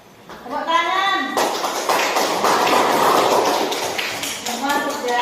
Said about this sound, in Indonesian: Aplaus untuk kelompok A dan kelompok B. Tepuk tangan.